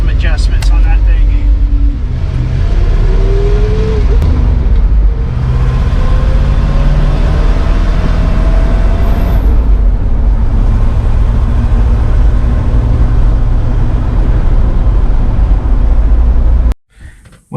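An off-road recovery tow truck's engine idles loud and close with a steady low rumble, briefly revving, while a person talks over it; the engine cuts off abruptly at the very end.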